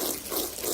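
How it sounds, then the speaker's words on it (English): Water poured onto a pre-treated area rug during cleaning, a steady broadband splash and trickle close by with no talk. "I'm just adding a little water"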